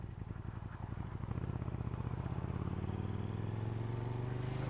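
A KTM 1290 Super Duke R with a V-twin engine is ridden, its close, throbbing exhaust note pulsing steadily while the pitch climbs gently under acceleration, with no voices.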